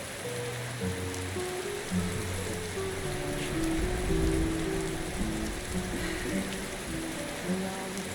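Steady rain in the video game Enderal, an even hiss of falling drops on surfaces throughout, with a low game music bed and no clear talk.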